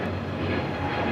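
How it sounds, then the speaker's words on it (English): Delta A321neo airliner taking off at LAX, a steady, broad jet engine roar that holds at an even level throughout, with no voices. "This flight heading to Tampa, now taking off."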